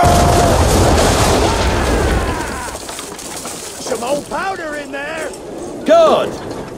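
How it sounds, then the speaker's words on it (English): Ship cannons firing in the naval combat of the video game Assassin's Creed III, a deep rumbling boom that fades out, followed by faint cries and voices over the settling noise. "Now, aim all guns at her bow and do as much damage as possible."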